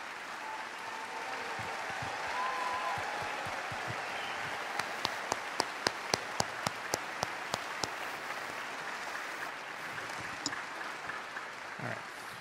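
An audience applauding a jazz band at a summer concert, a moderate wash of clapping with a run of sharp, closer individual claps in the middle, fading toward the end.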